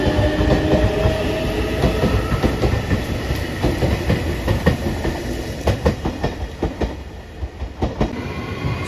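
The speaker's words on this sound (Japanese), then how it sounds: "7時37分発特急石槌1号松山行き8000系特急電車。" A JR Shikoku 8000 series limited express electric train, the Ishizuchi bound for Matsuyama, rumbles past at close range with a steady rush and rhythmic clickety-clack of wheels over rail joints, plus a faint high whine.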